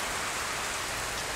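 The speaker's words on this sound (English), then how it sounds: "So the rain kind of slowed down a little bit, but still it's like everything is wet" Steady rain falls continuously and fairly loud on wet surfaces outdoors, an even hiss with no voices over it.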